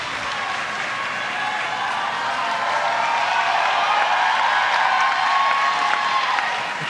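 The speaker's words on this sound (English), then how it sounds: "The crowd is getting behind her." A weightlifting competition crowd applauding and cheering, a dense wash of clapping that swells slightly mid-way and holds steady throughout.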